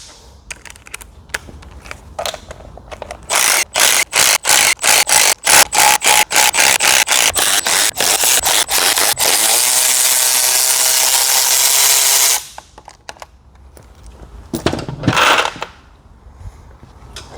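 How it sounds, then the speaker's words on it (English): Bolts removed from around the edge of a Tesla large drive unit case during a rebuild for a Toyota RAV4 EV, heard as loud close bursts of a power tool's rapid rattling, one long sustained run, then quieter clanks. "then we'll remove all the bolts around the periphery"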